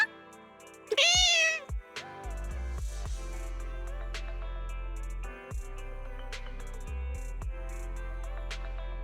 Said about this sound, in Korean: 이 고양이들 설마 연어의 새로운 친구들인가?